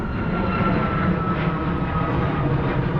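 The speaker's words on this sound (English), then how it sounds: "Plane is in full throttle in the air" Steady, loud broadband roar of an airplane at full throttle in the air near JFK airport, constant throughout with no talking.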